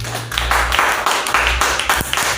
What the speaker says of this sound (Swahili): Pia mgeni wetu makofi mazuri.